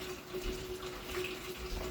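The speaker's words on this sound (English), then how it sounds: "Let's turn this water off." Water running steadily from a faucet, a constant splashing stream with no voices.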